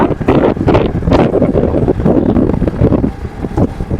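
Strong wind buffets the microphone on a motorbike ride near Pazhaverkadu, a loud, continuous roar with rumbling gusts that lasts throughout.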